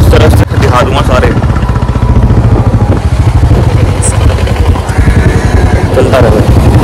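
A Royal Enfield Classic 350 Reborn motorcycle being ridden on the road toward a service station: a steady, loud engine thrum with rhythmic low pulses and clatter, running throughout. A voice talks over it.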